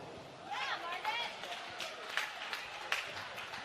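Modest applause from spectators at a women's 3-metre springboard diving competition, light and distant under a commentator's voice.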